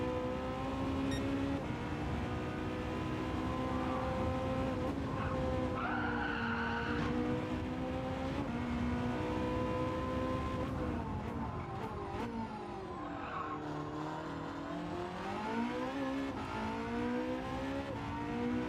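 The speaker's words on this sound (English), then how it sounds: "Oh, there's a car going round to the background." A Gran Turismo 7 Gr.1 prototype race car in an online lobby race whines continuously at high revs, with shifting engine pitch and tire skids across the lap and no voices.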